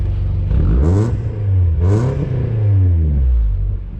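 A Toyota 5S-FE 2.2-litre four-cylinder car engine is revved twice nearby, its pitch climbing and falling with each loud, buzzing rev.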